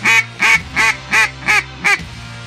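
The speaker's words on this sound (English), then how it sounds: "Bunch of ducks high to the left." Six loud, evenly spaced mallard quacks in a quick rhythmic series, close and nasal, each a short honking burst, then silence, at a small creek.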